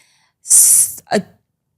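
A single close, sharp sneeze: a hissing burst followed by a short voiced exhale, then silence.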